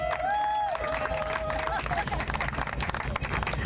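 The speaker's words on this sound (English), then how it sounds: "please give it a round of applause" Crowd applause and clapping from an audience at a Block The Boat protest rally, steady and dense throughout, with a crowd hubbub and cheering under it and a brief whistle-like tone near the start.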